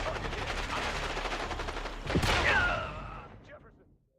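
Gunfire in Call of Duty Black Ops 6 on Xbox Series X, a dense rattle under game chatter and voices, with a sharper burst near the middle before fading out.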